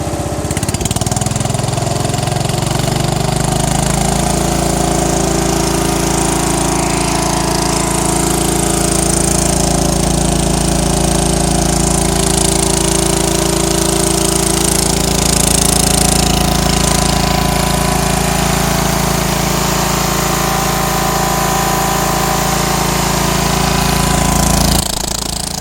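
A Cub Cadet 680 lawn tractor fitted with a custom exhaust stack, its engine running loud and close, rising from idle into a sustained rev that holds a steady, rumbling drone for about twenty seconds before dropping off.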